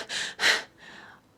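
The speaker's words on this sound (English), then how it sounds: "you still keep breathing through your mouth or your chest" Quick, rapid stressed breaths through the mouth, three audible puffs close to the ear with the middle one the strongest, demonstrated by a single person.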